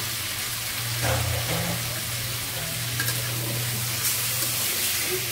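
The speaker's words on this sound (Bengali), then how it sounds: "তেল গরম করা হয়ে গেছে, দিয়ে দিচ্ছি মুরগি।" Chicken pieces frying in hot oil on full heat, a loud continuous crackling sizzle that holds steady throughout, close by with a low hum underneath and no talk.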